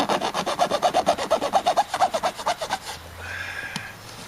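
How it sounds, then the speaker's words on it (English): Hand filing takes the sharp points off a homemade gas transfer pump: about fifteen quick, even rasping strokes close up, then the filing stops, leaving a faint hiss and one small click. "Just filing the little points off that come through, because you're never going to get them perfect."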